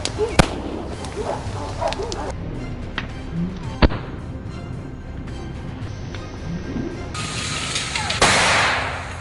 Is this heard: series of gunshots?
yes